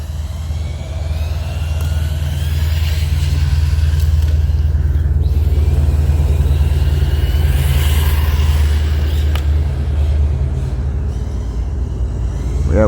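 An RC rally car (Rlaarlo) on a 2200mAh battery runs at about half throttle along a street, giving a steady, loud motor and drivetrain drone with road rumble that holds for the whole stretch.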